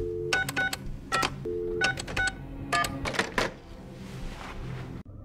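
A telephone keypad dials an emergency number, a series of distinct beeping tones in short quick clusters with brief gaps, followed by a softer hiss and a sudden click at the end.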